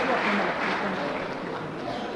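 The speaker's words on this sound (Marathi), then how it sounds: "एकदा जोरदार टाळ्यांचा गजरा" An audience at a college prize-giving ceremony applauds to welcome guests, a dense, steady clatter of many hands clapping that fills the hall and carries on evenly for a couple of seconds.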